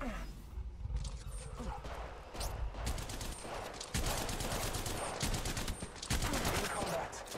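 Rapid automatic weapon fire in the mobile video game Apex Legends Mobile, delivered in dense repeated bursts of sharp cracks that run almost continuously and sound close.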